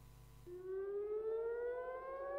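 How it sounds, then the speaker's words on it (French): A civil defense air raid siren sounds in Israel, its wail rising steadily in pitch and holding loud and unbroken, with no voices over it. "Des sirènes ont sonné à 23h25 heure de Paris dans le ciel d'Israël"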